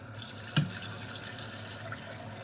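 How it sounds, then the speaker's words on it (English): Water runs and splashes as a blender container is rinsed at a sink, a steady faint stream with one brief louder splash near the start. "I rinse out the container."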